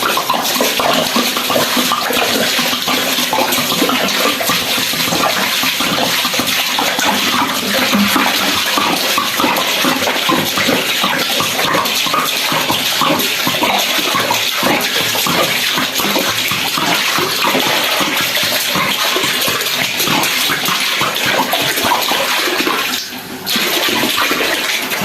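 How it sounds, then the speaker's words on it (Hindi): Mineral water gushing steadily into a large cooking pot for trotter paya, a loud continuous rushing and splashing that barely changes throughout. "ये हम इसमें मिनरल वाटर ऐड कर रहे हैं।"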